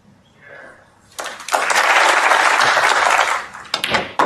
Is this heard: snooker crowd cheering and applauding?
yes